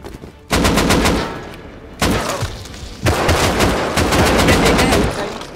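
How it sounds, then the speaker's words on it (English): Repeated bursts of automatic gunfire blast out in an online raiding video game, loud and close, with several sustained volleys separated by brief pauses. "I'm getting shot at."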